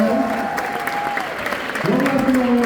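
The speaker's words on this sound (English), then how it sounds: "let's give a round of applause for Filmer that's back there" A high school audience applauds at an assembly, with steady clapping throughout and a voice talking over the noise.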